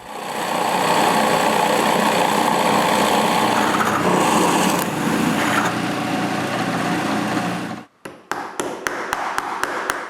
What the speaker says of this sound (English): I need to drill the holes.